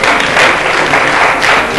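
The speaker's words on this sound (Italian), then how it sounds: "Applauso a Brasile!" Brief, loud burst of applause, a dense wash of clapping that lasts under two seconds with no talk over it.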